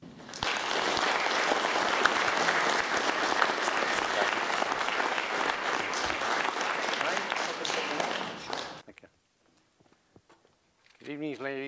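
Audience at a Day of Action Against Smart Meters event applauding to welcome a speaker, sustained clapping for about eight seconds that fades out, followed by quiet and a voice starting to talk.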